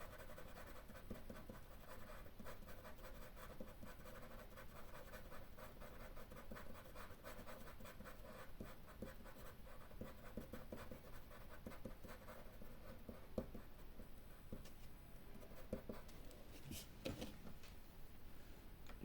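A B pencil drawing on paper, a faint, close, continuous scratching of graphite with short strokes repeating steadily and no talking.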